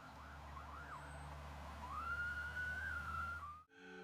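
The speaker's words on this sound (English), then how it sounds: "the ambulance is coming" An ambulance siren sounds in the distance, a wavering wail that settles into a long steady tone before cutting off abruptly, faint over a low background hum.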